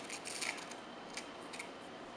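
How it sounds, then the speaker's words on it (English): Scissors snip through jute twine in a few quick, quiet close-up cuts while craft pieces are prepared, with no speech. "you want to cut 10 pieces of jute, and they need to measure about 32 inches each"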